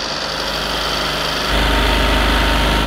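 BMW and Porsche engines run without oil in a steady, rough mechanical drone that steps up louder and harsher halfway through.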